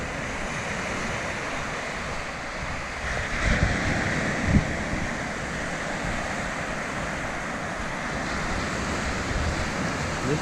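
Ocean waves wash onto the beach at Camp Ellis at high tide, a steady broad surf roar with gusting wind on the microphone and a couple of slightly louder surges.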